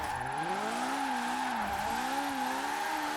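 A car engine in Forza Horizon 4 revs high and steady toward nearly 9,800 rpm, its pitch sweeping up and down through gear changes with a smooth synthetic tone, continuous and loud throughout.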